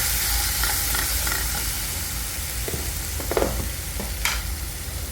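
Turmeric, red chili powder, coriander powder and garam masala stirred into rajma frying in a pan, a steady close sizzle with intermittent scraping stirs and a few louder spattering pops, no talking.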